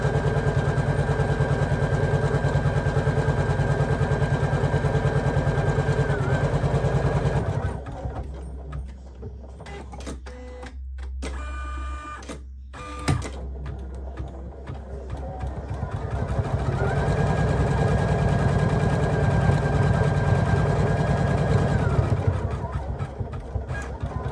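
A Poolin 06 embroidery machine stitches a pattern onto a bucket fishing hat with a steady, loud, rapid mechanical chatter. It eases into a quieter, uneven stretch midway, then resumes its full, continuous drone.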